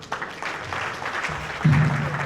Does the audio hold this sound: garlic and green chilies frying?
no